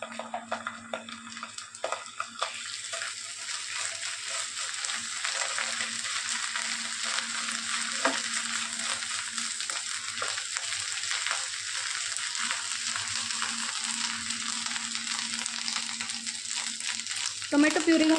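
Onion with ginger garlic paste fries in a pan with a continuous bright sizzle throughout, joined by occasional stirring scrapes and small crackles.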